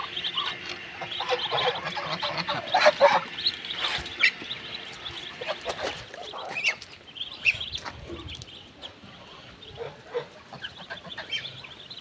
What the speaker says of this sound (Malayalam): താറാവ് തീറ്റുന്നുണ്ട്.